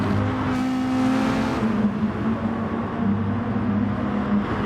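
A long train of seven or eight race cars roars down the Mulsanne straight at Dragon Trail in a sim racing endurance replay, their engines a loud, steady, overlapping drone with a tonal whine that shifts a little.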